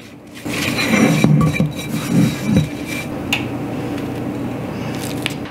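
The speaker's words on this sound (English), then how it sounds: "I'm just going to eyeball equal amounts and just mix it with your hand and keep going." Hands mixing flour and cornstarch for gluten-free lemon chicken, giving soft squishing and rubbing bursts of powder and coated pieces in a bowl, close and fairly loud, in a few uneven clusters over low kitchen background noise.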